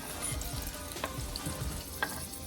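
Garlic, white onion and Scotch bonnet pepper sauté in a pan with a steady close sizzle, broken by a couple of brief scraping stirs of the utensil.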